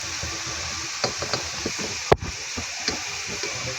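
Browned onions fry in a pan for chicken biryani, a close sizzle broken by scattered scrapes and taps of a spoon stirring, with one sharp knock midway.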